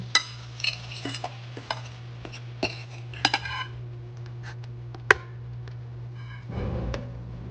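Coating mixture for crispy fried chicken is stirred in a bowl, giving scattered light clinks and scrapes over a low steady hum, ending in a soft rustling stir.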